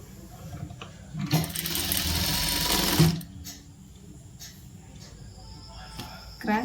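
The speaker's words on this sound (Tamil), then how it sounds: "இப்போ வந்து பைப்பிங் வந்து தைச்சிக்கலாம்" A tailoring sewing machine stitches cross-cut piping onto a churidar in a single close whirring run of about two seconds, ringed by quiet handling noises and a short click as the fabric is set.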